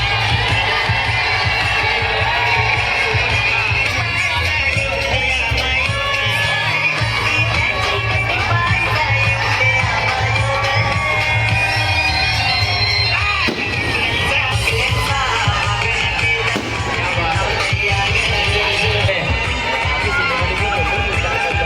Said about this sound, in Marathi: एकदा जोरदार टाळ्या त्यांच्यासाठी होऊन जाऊ द्या।